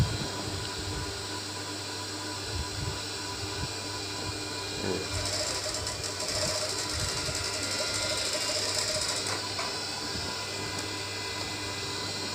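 A sewing machine stitches a garment sleeve, a steady fast mechanical whir and rattle running continuously at moderate volume with a brief louder burst midway, under quiet background noise.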